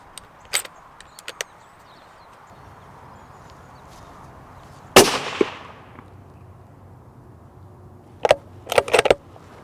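Rifle shots from a rifle fitted with a V8 riflescope on a range, a few sharp cracks spread across the clip over quiet background, including one louder crack with a trailing echo and a quick cluster near the end.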